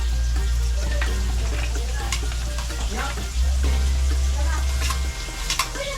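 Chopped onion fries in a pan in a home kitchen, a loud, steady sizzle with spatula scrapes and stirring clatter on top.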